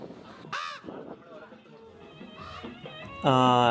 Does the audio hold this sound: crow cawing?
yes